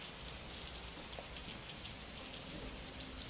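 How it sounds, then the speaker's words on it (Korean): Soft, steady patter of rain falling on dry leaves, a faint, even hiss with scattered drops and one sharp tap near the end. "마른 잎으로 잎잎이 울리는 소솔한 빗소리"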